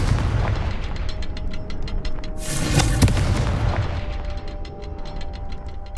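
Confringo fire spell blasts in Hogwarts Legacy, a loud close roaring explosion burst in the middle, surrounded by rapid rhythmic crackling impacts and a steady rumbling game background.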